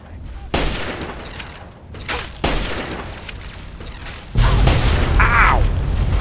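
Gunfire in the video game Fallout 3, loud bursts and mechanical clatter of weapons close by, with a sharp jump in volume partway through.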